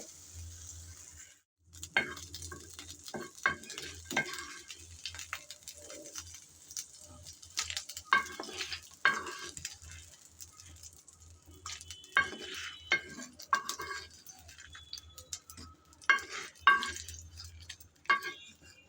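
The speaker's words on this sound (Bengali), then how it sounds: "মরিচ আর রসুন ভেজে নিলাম" Chili and garlic fry in oil in a pan over low heat, crackling and sizzling in irregular bursts, with stirring scrapes and occasional pops; no talking.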